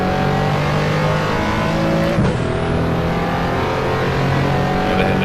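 A 1987 RUF CTR Yellowbird in the racing game Assetto Corsa gives a loud, steady engine roar at high revs, with one brief gear-change dip partway through and no talking.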